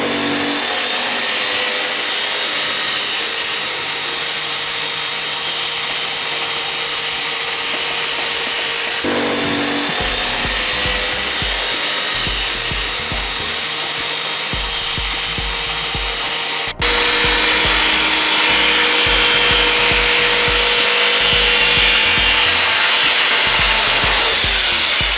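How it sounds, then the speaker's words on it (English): Jigsaw cutting a hatch opening in the wooden deck of a handbuilt kayak: a loud, close, continuous buzzing cut with brief shifts in pitch as the blade works along the line, and no voices. "then I'll cut this out with my jigsaw"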